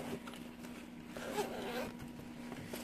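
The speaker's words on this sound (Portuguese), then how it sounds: "a gente vai abrir esse zíper" A zipper is slid open on a handmade fabric mini backpack, a faint, drawn-out rasp against a quiet room hum.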